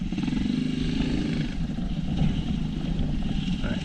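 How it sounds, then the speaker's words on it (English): A GPX FSE 250E motorcycle engine idles in first gear with a steady, low, chugging throb that runs unbroken and fairly loud from start to finish. "It's just idling in first gear."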